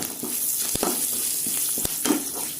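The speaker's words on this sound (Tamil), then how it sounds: "இப்போ நம்ம கருவேப்பிலை போடுறோம்" Curry leaves sizzle in hot oil in a pan with onions and roasted lentils, a steady close crackling hiss broken by a few sharp pops and stirring scrapes.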